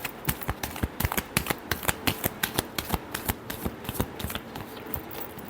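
Tarot cards are shuffled rapidly by hand, a close series of crisp riffling snaps and flutters in quick irregular bursts, fairly quiet with no talk.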